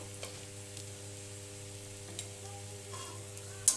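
Salt and turmeric are stirred into a koi fish curry with gathi kochu and bori in a pan: soft, sparse scraping over a faint sizzle and a steady low hum, with one sharper knock near the end.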